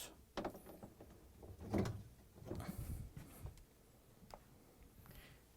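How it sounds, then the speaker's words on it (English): A Samsung freezer door is lifted off its hinges, giving a few close, sharp clunks and rattles with brief scraping, mostly alone in a quiet room. "And now we can lift the freezer door off the hinges."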